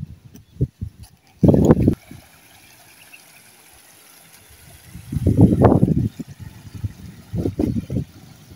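A live tilapia goes into a container of water, making a few short, close splashing bursts separated by quiet stretches, with no talking.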